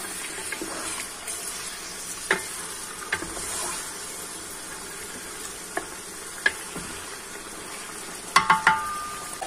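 Beef for nihari sizzles in a pot over full flame, a constant moderate hiss of meat releasing water, broken by several sharp clinks and taps of utensils, especially near the end.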